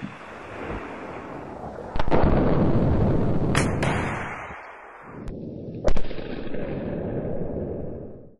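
Saab Bofors NLAW anti-tank missile launch: a sharp blast at about two seconds kicks off a long, roaring rush of noise, with further cracks and a loud thump near six seconds before the roar tails off.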